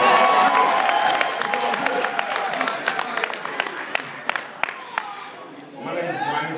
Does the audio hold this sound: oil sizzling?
no